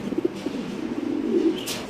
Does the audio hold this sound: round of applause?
no